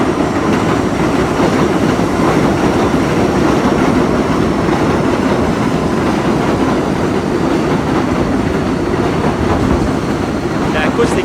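A train at a stop heard from the ground floor of a building right beside it, a loud continuous rumble with rhythmic clatter of wheels and faint squeals, steady throughout with voices murmuring underneath.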